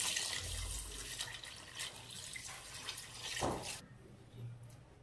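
Water splashes and rushes steadily into a pot of half-cooked chicken for dum biryani, a close, hissing pour that tapers off near the end.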